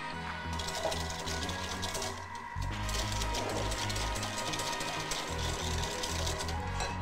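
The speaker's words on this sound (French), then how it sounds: "je mélange mes jaunes et mon sucre ensemble" Electric mixer whisking egg yolks and sugar together for a pastry cream, a steady buzzing motor drone that shifts in pitch partway through, close and continuous, no voices.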